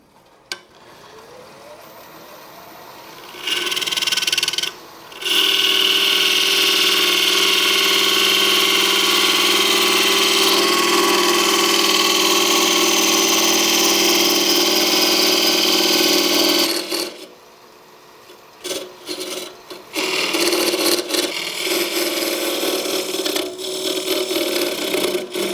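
A scraper hollows the inside of a wooden oval box turning on a lathe, a loud continuous whirring scrape with one short break, then quieter intermittent cuts and stops before the steady cutting resumes.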